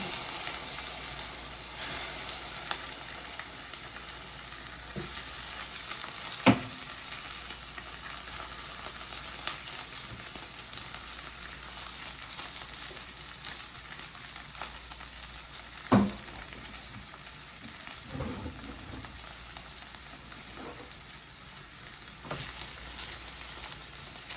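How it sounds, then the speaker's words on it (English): Broccoli searing in an oiled pan, a steady soft sizzle of frying throughout with a few sharp clinks and stirring knocks scattered across it, no voices. "I'm gonna allow that to sear for about 2 to 3 minutes."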